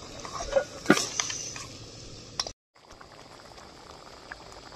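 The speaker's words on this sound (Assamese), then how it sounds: "এতিয়া মই ভাজি থোৱা মাছখিনি টেঙা দি লওঁ" Fried rohu fish simmering in a sour tenga curry in a pot: soft bubbling with a few sharp utensil clinks early on, a brief dropout, then quieter steady simmering.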